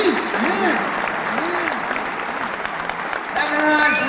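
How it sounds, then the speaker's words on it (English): An audience applauds after a singing performance in a Mayberry-themed show honoring Floyd the barber, a loud, continuous clapping with warbling tones and other sounds mixed in throughout. "Have a nice round of applause once again for Floyd, our favorite barber"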